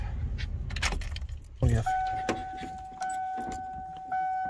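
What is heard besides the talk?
keys jangling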